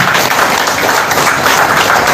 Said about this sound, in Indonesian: Tepuk tangan dan hormati diri saudara.